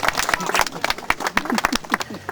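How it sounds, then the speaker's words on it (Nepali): Wedding guests clap for the bride and groom, a close patter of many hands in quick uneven bursts, mixed with talk. "ताली बजाएर धन्यवाद।"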